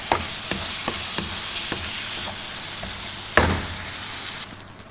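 Chopped small tomatoes sizzle and fry in a pan for a chicken curry, a steady bright hiss with several soft stirring clatters, loud and close, fading near the end.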